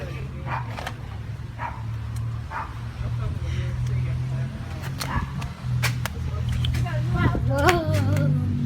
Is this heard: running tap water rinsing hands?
no